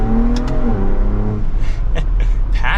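A 2023 Ford Bronco Raptor's twin-turbo engine revs up hard under boost, a loud rising growl heard from inside the cabin, with turbo whooshes and a few clicks toward the end.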